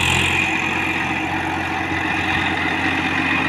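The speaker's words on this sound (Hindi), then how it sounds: "देखते हैं कैसा परफॉर्मेंस दिखाएगा ट्रैक्टर" A Massey Ferguson tractor engine drones loud and close as it pulls a sugarcane load through a wet, rain-soaked field, holding a steady, unbroken rumble.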